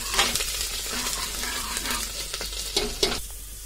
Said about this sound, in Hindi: प्याज को भून लूंगी।